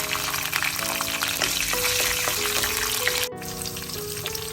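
Fennel seeds and curry leaves sizzle in oil for a mushroom curry. The sizzle is a steady, close, continuous hiss with a soft tonal backing, and it eases slightly near the end.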